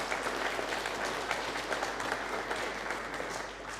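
A lecture audience gives continuous applause, a dense, steady patter of many hands clapping at even loudness from start to finish, with no clear voices standing out.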